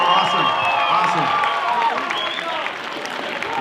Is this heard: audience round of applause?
yes